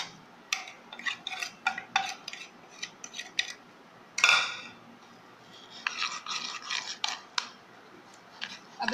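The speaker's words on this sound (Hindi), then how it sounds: "अब इसे हम अच्छे से मिक्स करेंगे।" Mayonnaise, spices and chicken being mixed together in a bowl, with irregular clinking and scraping strokes close up, including a louder scrape midway, and no talking.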